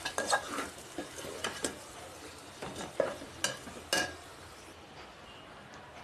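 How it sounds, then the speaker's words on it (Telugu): Stirring chili powder into sorakaya sambar in a pot, a spoon scraping and clinking against the metal pot in short irregular bursts over faint sizzling, quiet and close, with no talking. "1 టేబుల్ స్పూన్ కారం వేసి ఒకసారి కలుపుకోండి"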